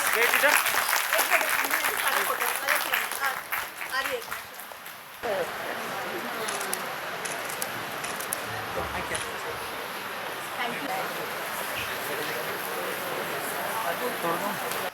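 An audience at a school results celebration applauds the chief guest, clapping that starts loud and thick, then thins into a softer, steadier patter, with a voice talking near the start.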